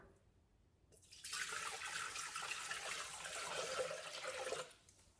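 Water is poured steadily into a cooking appliance with a Varoma steaming dish for stuffed peppers over basmati rice, 43 ounces in all: a loud, continuous splashing rush that starts after a second and runs for about three and a half seconds before cutting off.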